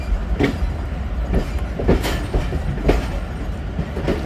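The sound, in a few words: Awam Express train at Taxila Cantt Junction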